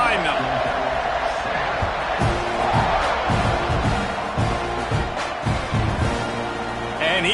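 Football stadium crowd roaring loudly and continuously as the kickoff approaches at a Georgia vs Texas A&M game, a dense wall of cheering with thumps and swells throughout, heavy commentary speech on top.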